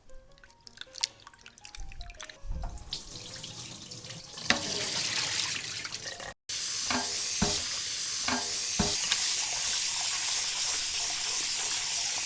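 Sliced potatoes rinsed in cold water in a bowl, with sloshing, swirling and dripping, then a louder stretch of running tap water and splashes up close; no one speaks.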